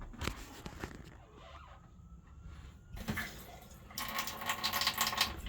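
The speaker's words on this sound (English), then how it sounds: "that's as much water that comes out, hot or cold, from the faucet" A travel trailer faucet in a Forest River Surveyor 19BHLE, fitted with reduced water pressure, runs in bursts: a soft hiss at first, then a louder, brighter gush of flowing water in the last seconds.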